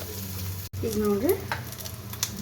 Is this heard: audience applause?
no